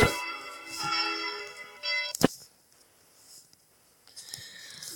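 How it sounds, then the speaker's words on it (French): A small hour-striking chime bell in the Block Craft 3D video game rings out with sustained, shimmering metallic tones that cut off sharply, followed by a short strike and a quieter bell tone near the end. "voici la petite cloche de tintement qui sonne les heures"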